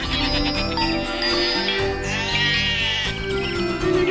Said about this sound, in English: she heard the goats with bells around their neck